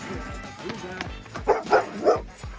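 An aggressive dog gives a quick run of close, loud barks and high, falling yips, several in succession with short gaps between them.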